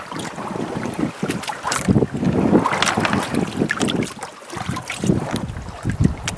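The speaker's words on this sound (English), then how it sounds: "like we got a boat coming to visit us." A boat out on the open ocean offshore, heard from a fishing kayak, with a steady rushing wash of water and engine noise blended with buffeting wind across the microphone, fairly loud and continuous throughout.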